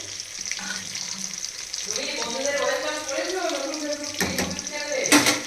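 Dal (lentils) simmers in a pot in a home kitchen, a soft bubbling and sizzling wash beneath a voice, with a couple of sharp clinks near the end.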